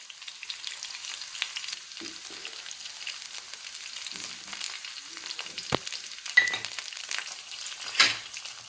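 Garlic, cumin and green chillies sautéing in a pan for a green chilli kharda, a soft steady frying hiss with a few knocks and scrapes from stirring, clearer near the end.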